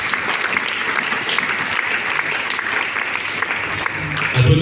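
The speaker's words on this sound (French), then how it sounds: "Est-ce qu'on peut d'abord applaudir pour nous-mêmes très fortement?" A large crowd claps loudly and steadily at a wedding and events fair in Mbuji-Mayi, the dense applause holding throughout and swelling slightly at the end.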